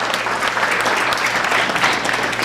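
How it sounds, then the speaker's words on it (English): A crowd at a county Farm Bureau candidates forum gives a loud, steady round of applause for board members, dense clapping sustained throughout the short stretch. "give them a round of applause"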